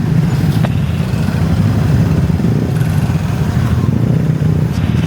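Motorcycle with a loud open exhaust muffler in traffic in Cagayan de Oro, a continuous low rumbling engine drone that stays loud and close throughout.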